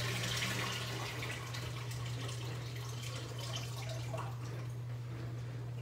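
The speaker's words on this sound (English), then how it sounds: "So I'm gonna drain this water off" Water drains off cut potatoes in a steady, close hiss of pouring and splashing liquid, with a constant low hum underneath and no talking.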